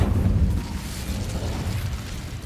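A roaring, rumbling whoosh of an Incendio fire spell in Hogwarts Legacy fills the clip, loud and sustained with a low booming body that eases slightly after the first half-second.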